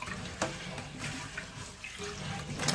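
Water draining from a bowl of rice being washed for homemade nori rolls, a soft watery trickle and sloshing with small splashes and drips, close and steady with no talking.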